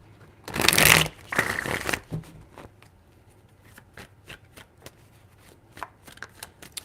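A deck of tarot cards is riffled close up in two quick bursts of shuffling, followed by light scattered taps and card handling in an otherwise quiet room.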